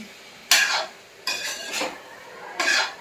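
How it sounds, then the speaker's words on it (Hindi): Mixed vegetable curry being stirred in a pan at home, giving three separate scraping, clinking sweeps with soft rustle between them, close and moderately loud, with no voices. "सब्जी बनाई है ना, इसको चलाने आ गई थी"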